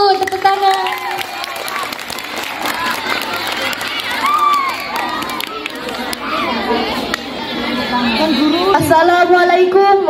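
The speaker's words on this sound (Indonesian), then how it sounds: "Tepuk tangan." Applause and cheering from a student audience at a junior high school student council campaign and debate event, a busy crowd roar with chatter and children's shouts mixed throughout, with talk over the noise.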